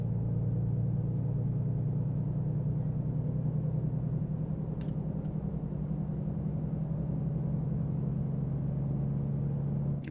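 A truck engine in American Truck Simulator rumbles steadily while driving, a low, even drone that holds at constant loudness throughout with no talking and only a couple of faint clicks.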